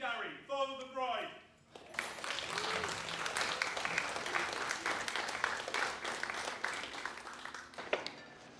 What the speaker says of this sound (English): a round of applause to welcome Gary, father of the bride